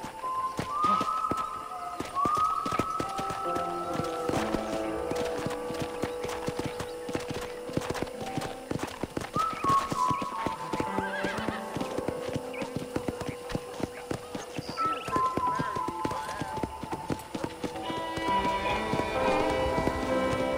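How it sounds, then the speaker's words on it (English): Steady clip-clop of horse hooves at a walking pace in Red Dead Redemption, with a soft music score and ambient tones playing underneath. "let's see if you can still ride a horse"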